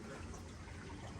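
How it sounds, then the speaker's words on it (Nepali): Water rushes and trickles steadily inside Gupteshwar cave, a continuous broadband wash with a dense low rumble, heard alone and fairly close for a brief stretch with no voices over it. "यस्तो छ पानीको आवाज सुन्दा कि साथीहरू"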